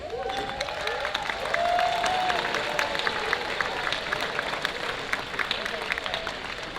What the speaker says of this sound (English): Can everyone who went to West please stand for a round of applause?